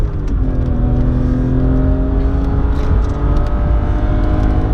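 A BMW E46 M3 with a Dinan S2 setup revs hard toward redline from inside the car, a loud, steady engine roar with rising harmonic tones and no talking.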